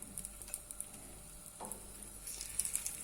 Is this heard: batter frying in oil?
yes